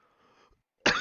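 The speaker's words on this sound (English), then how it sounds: "Still dealing with this cough." A single sharp, loud cough bursts out near the end after a quiet stretch of faint background murmur, close to the microphone at a short-track racing event.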